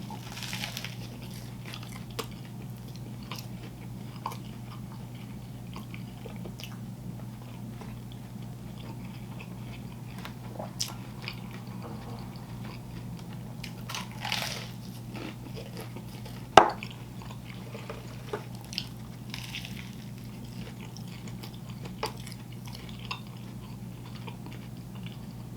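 Someone biting and chewing a Doritos chopped cheese sandwich, a long run of quiet crunchy chews with a few sharper bites, close up under a low steady hum.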